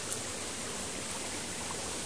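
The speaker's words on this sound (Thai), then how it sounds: "ฟังเสียงน้ำ" Water flows steadily in a clear forest stream beside a waterfall cascading over tree roots, a constant broadband rush with no voices.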